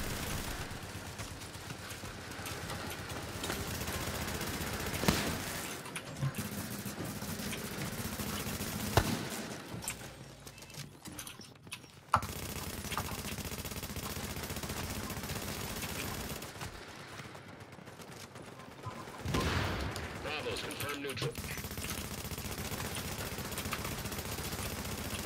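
Rapid automatic gunfire in The Division 2 video game, long continuous bursts of shooting broken by a few short pauses, loud and dense throughout with no talking.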